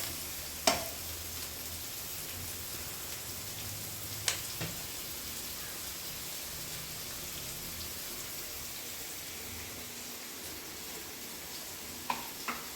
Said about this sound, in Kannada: ಇವಾಗ ಈರುಳ್ಳಿ ಹಾಕ್ತಿದ್ದೀನಿ. ಫ್ರೈ ಮಾಡ್ಕೊಬೇಕು ಈರುಳ್ಳಿನ